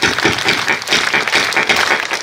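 An audience at a devotional gathering with a spiritual teacher claps in a brief burst of dense, close applause, with no voices over it.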